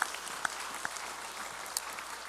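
A congregation applauds during a Sunday church worship service, steady sustained clapping with a few sharper claps standing out, filling the room at moderate, somewhat distant level with no talking.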